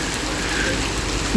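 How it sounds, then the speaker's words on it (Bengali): Heavy winter rain pours down in a steady, dense hiss that continues unbroken throughout, with no voices, only a brief soft knock near the end. "দেখেন কিরকম জোরে আসছে বৃষ্টি।"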